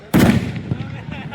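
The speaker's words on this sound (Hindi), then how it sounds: "चलो पटाखा आवाज दिखा।" A firecracker bursts at a street celebration welcoming newly selected Chhattisgarh Police recruits: one sharp, loud, close bang followed by a short, fading crackle and rumble.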